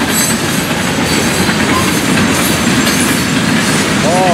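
A Florida East Coast (FEC) freight train of loaded rock hoppers rolls past nearby, a steady, loud rumble of heavy cars with wheel noise and faint clickety-clack throughout.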